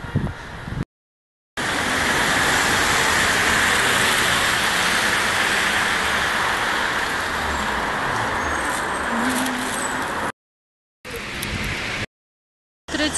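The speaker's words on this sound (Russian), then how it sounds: "Третий раз за день дождь" Steady heavy rain in a Minsk park hissing loudly for several seconds, broken by abrupt cuts to silence, with a faint vehicle-like rumble underneath.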